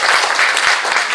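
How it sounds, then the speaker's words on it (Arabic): An audience at a talk applauds, a loud, dense, steady burst of many hands clapping together that fills the room without pause. "تصفيق على الشاب"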